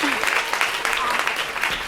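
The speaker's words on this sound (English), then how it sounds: "So everyone, please give a round of applause for Dr. Duckworth and Milkman." Audience applause greets Dr. Angela Duckworth and Dr. Katy Milkman at a conference opening lunch, a steady, dense wash of clapping filling the room for the short stretch.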